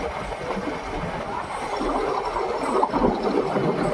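The Ooty toy train runs through forest with a steady rumbling roll of carriages on rails and faint clatter, rising slightly louder toward the end, heard close from on board with no talk.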